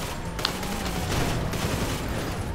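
Rapid gunfire in Grand Theft Auto 5 during a casino heist, a dense, continuous burst of shots with a sharp crack near the start, loud and unbroken with no talk over it.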